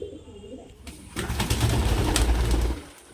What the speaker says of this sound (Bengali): সবগুলো দেশি পায়রা আমাদের মুর্শিদাবাদ ইগ্রিবাজ লাইনের পায়রা